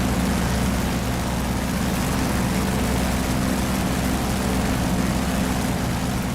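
An F4U Corsair propeller fighter in a video game drones with a steady, loud, low engine roar that holds unbroken throughout, with no voices.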